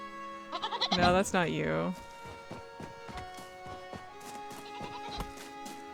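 A goat bleats in the video game REKA, giving a few loud, wavering, nasal cries up close, followed by a voice talking over soft background game sounds.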